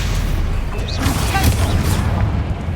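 A Bombarda spell explodes in the wizarding action game Hogwarts Legacy with a dense, booming blast amid continuous combat noise, loud and close.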